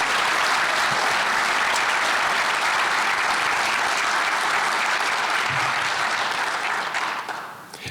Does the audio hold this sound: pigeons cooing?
no